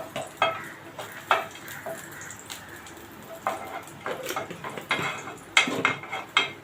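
Ghee heating in a hot pan on a gas stove, with soft intermittent sizzling and occasional scraping or clinking of a utensil against the pan, close and fairly quiet.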